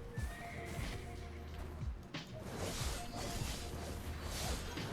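A horse in the Black Desert video game whinnies loudly while hooves clip-clop steadily beneath it, with game ambience and soft whooshes around the sounds.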